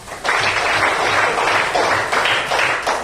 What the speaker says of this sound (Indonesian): Tepuk tangan buat Mela.